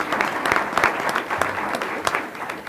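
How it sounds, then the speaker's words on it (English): Applause from the audience at a formal school board meeting, a round of clapping that stays steady and moderately loud throughout with no speech over it. "She needs to get a round of applause for that right"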